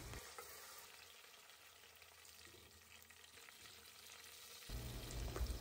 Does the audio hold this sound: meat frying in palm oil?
yes